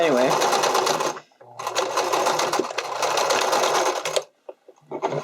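Sewing machine running zigzag stitches on stretch fabric, two long loud bursts of rapid rhythmic stitching separated by a short pause, then brief stops and starts, with a voice talking over it.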